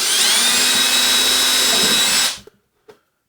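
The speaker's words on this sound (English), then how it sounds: "we need another drill bit and drill for the screw itself so that I'm not splitting the plywood" A power drill runs steadily for over two seconds boring a screw hole in plywood for a hidden table-top fastener, then winds down, followed by two small knocks.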